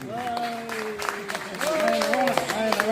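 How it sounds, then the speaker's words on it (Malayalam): Applause at a daycare anniversary gathering, a crowd clapping steadily throughout while a voice speaks over it. "എല്ലാവരുടെയും കയ്യടിയോടുകൂടി."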